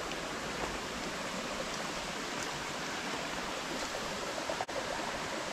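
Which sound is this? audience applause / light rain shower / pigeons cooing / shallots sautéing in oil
light rain shower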